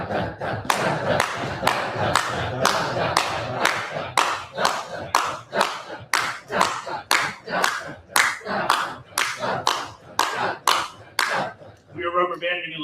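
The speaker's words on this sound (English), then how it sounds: "I'm gonna clap before, you're gonna speak the dot, dot, dot, dot, dot, dot" Hands clap sharply on a steady beat in a rhythm class, a long regular series of loud, close claps with voices chanting along between them, ending with a brief sung tone.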